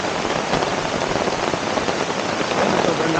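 Heavy rain pouring down at a car camping site, a loud, dense, continuous hiss of drops drumming on surfaces nearby.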